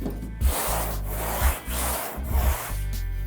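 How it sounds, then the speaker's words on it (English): Rhythmic rasping strokes of a sanding block scrub back and forth across a car body panel, close and fairly loud, with brief bumps between passes. "So this is called block sanding."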